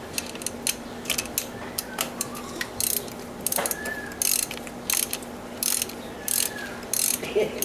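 Ratchet tightening a spark plug on a 2003 Honda Civic EX during a tune-up: a run of close, crisp ratcheting clicks in repeated short bursts with brief pauses, a faint background hum beneath.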